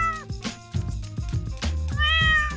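A kitten meows repeatedly and loudly, several drawn-out, wavering cries close by with short gaps between them, and no talking.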